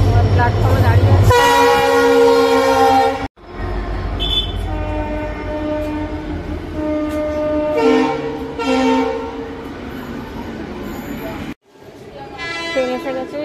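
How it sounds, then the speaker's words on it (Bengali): A Kharagpur local train pulls into a station platform, sounding long, loud, nearby horn blasts over a heavy rolling rumble, with brief breaks between blasts. "এই আমাদের ট্রেন চলে এলো, খড়গপুর লোকাল।"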